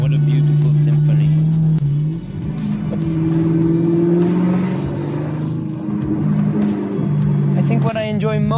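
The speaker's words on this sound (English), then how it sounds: "I think what I enjoy most about this car is the sound." A Maserati engine revs loud and close, with a steady deep drone that swells and eases through several throttle changes. A voice talks over it.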